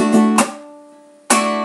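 Venezuelan cuatro playing the third floreo strumming pattern: a few quick close strums, a decaying chord, then a final sharp stroke that rings on.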